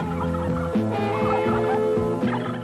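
A turkey gobbling loudly and repeatedly in quick rattling bursts, close and clear with no voices.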